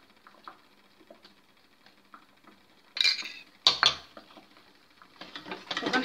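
A spoon stirring a melted chocolate mixture with nappage in a pot, light metallic scrapes and taps that grow into louder clinks toward the end.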